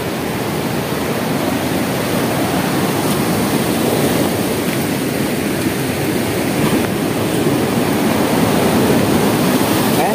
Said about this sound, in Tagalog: Yan, dinig nyo ang agos ng tubig.